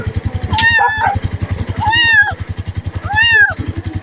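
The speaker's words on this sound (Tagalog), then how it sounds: "Oh, meow, meow. Ito na si Meow Meow." A cat meows three times, drawn-out and fairly loud, over the steady low putter of an idling motorcycle engine nearby.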